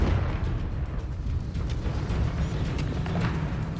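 A Confringo blasting curse bursts in Hogwarts Legacy amid a dense, continuous rumble of booms and crackle, loud and sustained throughout the fight.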